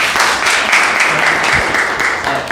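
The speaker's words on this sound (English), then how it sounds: "Can we clap for him?" Classroom applause for a student, a dense steady patter of hands clapping throughout at moderate level, with faint voices mixed in beneath.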